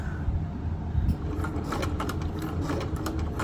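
Sewing machine stitching along the edge of a fabric project bag through both layers, a steady close mechanical whir with a quickening rhythmic needle patter, no talking.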